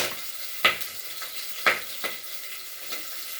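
Cloves, cinnamon, bay leaf and other whole spices fry in oil with cashews, giving a steady, moderate sizzle broken by several sharp spoon clinks against the pan.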